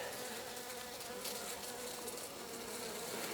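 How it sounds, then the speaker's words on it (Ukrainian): Dense, loud buzzing of many agitated honeybees close by in an open log hive, a continuous agitated hum with no pauses. "Тут бджола нервує, та вона була із осені така."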